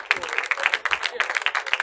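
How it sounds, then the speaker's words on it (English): Audience applause at a social media sales event, steady dense clapping throughout with speech-like energy mixed in, moderately loud and continuous. "A round of applause now"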